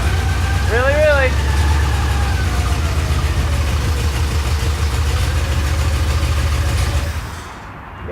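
A Chevrolet El Camino project car with brake trouble runs loud and close with a steady low engine rumble throughout, while a voice speaks briefly early on; the sound drops off sharply near the end.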